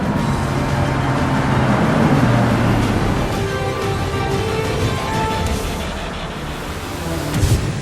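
A 2019 Porsche Panamera GTS sports car running a quick lap on a racetrack makes a loud, continuous engine roar with rushing road and wind noise, easing a little toward the end before swelling again.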